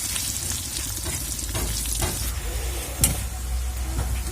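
Raw plantain pieces fry in oil in a wok, giving a steady close sizzle with soft stirring scrapes and one brief clatter, no voices.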